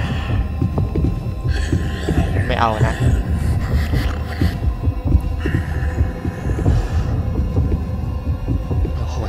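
A video game's heartbeat effect from The Designer's Curse throbs steadily as low, dense pulses, with a hum beneath and a person talking over it.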